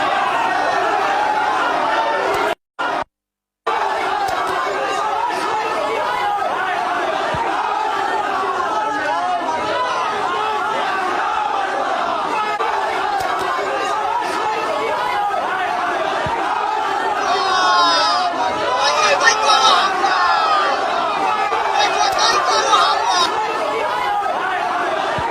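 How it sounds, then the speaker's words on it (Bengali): A crowd of BJP workers at a party office in West Bengal chants 'chor chor' and 'Joy Bangla' slogans, a dense, steady roar of many voices that swells near the end and continues almost unbroken. "কেবলমাত্র চোর চোর বা গো ব্যাক স্লোগান নয়, ভারতীয় জনতা পার্টির কর্মীরা ওনাকে জয় বাংলা স্লোগান শুনিয়ে ছেড়ে দিয়েছে"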